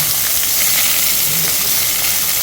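Onions added to a pan for a Tamil amaranth-stem greens dish hiss loudly and evenly in hot oil, a dense continuous close sizzle with no talking.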